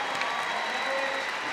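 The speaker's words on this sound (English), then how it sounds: "Lovely response from the crowd." Crowd applauding at the Crufts 2012 dog show, a dense, even wash of clapping from a large indoor audience, sustained throughout at a steady level.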